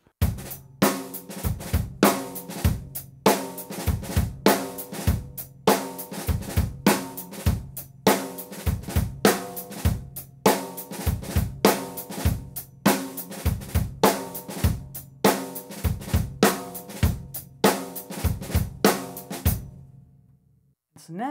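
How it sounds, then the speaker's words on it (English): A drum kit plays a steady groove, sharp snare and kick hits driving a regular rhythm with soft drag ghost strokes in between, then stops near the end. "The drag is going to sound like this."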